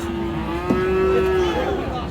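A single cow lets out a long, drawn-out moo close by at a livestock market in Ambari, Dinajpur, selling Friesian and crossbred bull calves, with a faint background murmur of the busy market.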